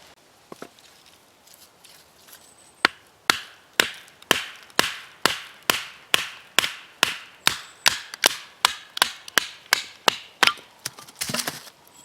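A GNS saber knife, struck repeatedly, splits a piece of wood in a long run of sharp, evenly spaced chopping knocks that start sparse, then settle into a steady fast rhythm, close and crisp with no voices.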